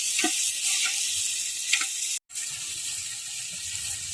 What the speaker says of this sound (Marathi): खडा मसाला आपला तळून घ्यायचा, टोमॅटो परतायची.